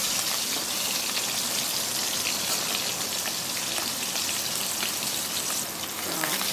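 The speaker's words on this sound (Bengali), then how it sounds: "আমি এদিকে ইলিশ মাছের মাথাটা ভাজা হয়ে এসছে" A hilsa fish head fries in a pan with a continuous, dense sizzle and crackle, heard close and alone without talk.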